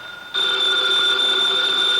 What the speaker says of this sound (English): The phone, if you please, Mr. Goodwin.